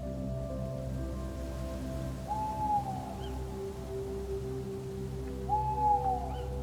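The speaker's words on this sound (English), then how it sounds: "That sound comes from the owl" Two soft, low hoots from an owl sound a few seconds apart, each a short gliding call, over a quiet, steady nighttime background hum.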